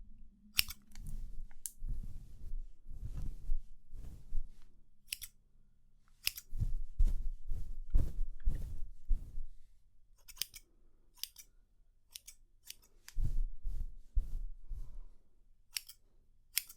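Scissors snip through hair during a close-up ASMR haircut, giving crisp, intimate clicks in irregular clusters with soft pauses between runs of cuts.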